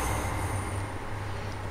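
An S-Bahn train runs on rails along the Luzern–Sursee route in Train Sim World 4, giving a steady low rumble and hum with a continuous faint higher whine of wheels on track.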